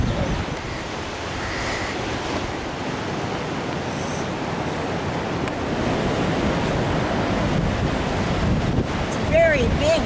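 Surf washes steadily onto a wide, deserted beach on the Bay of Bengal near a fishing village, a continuous broadband roar roughened by wind buffeting the microphone, with a few faint higher calls near the end.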